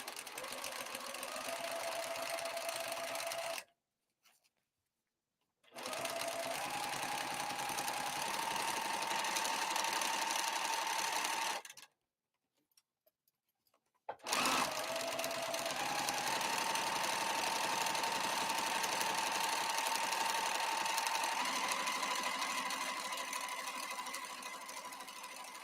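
A sewing machine stitches the exterior of a crossbody bag in three steady, humming runs, separated by two short silent pauses, heard up close with no talking.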